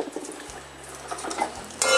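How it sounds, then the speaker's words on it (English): A mature coconut is whacked around its middle to crack the shell, with a couple of sharp knocks over a low steady hum and a louder rattling clatter at the very end. "Give it a whack around the equator."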